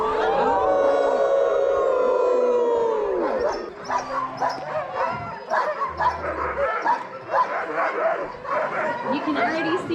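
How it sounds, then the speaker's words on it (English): Sled dogs howl and bark together, first as a long, tonal, overlapping chorus of howls, then breaking into excited yips, whines and barks close by, with people joining in the howling. "So if you would all join me in a howl to help our dogs"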